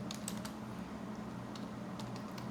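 A short command typed on a computer keyboard, a few faint, quick key clicks over a low steady hum, with no talk.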